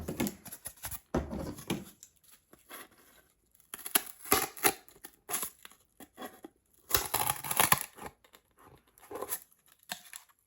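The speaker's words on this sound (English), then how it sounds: "I'm using my junk scissors" Junk scissors chew through corrugated cardboard in short bursts of crunchy snipping and tearing, close and dry, separated by pauses of near silence.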